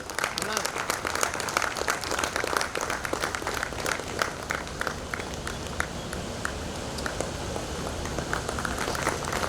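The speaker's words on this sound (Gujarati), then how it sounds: "તાળીઓના ગડગડાટથી વધાવીશું" A large audience bursts into dense, steady applause to welcome the administrator at the groundbreaking ceremony of the Netaji Subhash Chandra Bose Military Academy, sustained and loud throughout with a murmur of voices beneath.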